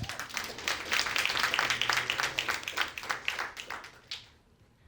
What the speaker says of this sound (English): Round of applause for looking good.